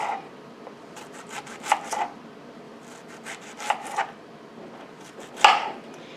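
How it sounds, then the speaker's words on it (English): A knife cuts fresh yellow squash into thick discs on a board, making several quiet scraping slices in small clusters, with a sharper chop near the end, close up and alone. "And then you just slice some discs."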